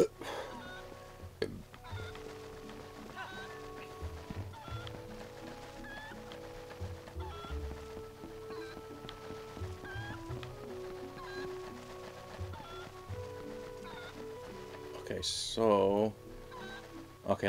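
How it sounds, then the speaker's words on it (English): A cuckoo chicken in The Legend of Zelda: Twilight Princess HD squawks in a short frantic burst near the end, over busy game music and effects. "This chicken's going ape shit."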